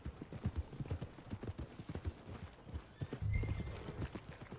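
Horse hooves clip-clop at a steady walking pace in Red Dead Redemption 2, close and moderately loud, with a brief snort or whinny near the end and no talk over them.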